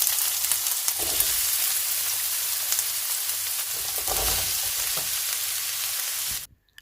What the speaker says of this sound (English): Add the onions and the salt and let it cook through.